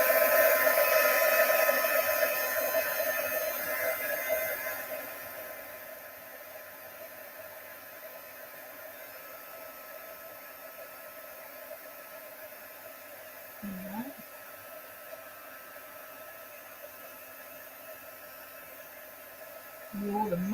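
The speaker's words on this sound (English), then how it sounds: "And now I can heat." Heat tool melting white embossing powder for a Stampin' Up card, a loud steady hair-dryer-like blowing for the first few seconds that then cuts off, leaving quiet room tone with brief handling noises.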